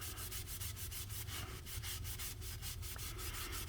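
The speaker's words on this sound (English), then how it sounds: "Got some Dawn on our sponge and we're just gonna scrub that really well." A soapy sponge with dish soap scrubs a machete blade in quick, even back-and-forth strokes, a soft, steady rubbing swish, close and quiet, with no talking.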